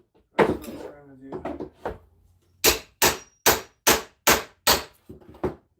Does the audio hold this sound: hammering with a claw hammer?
yes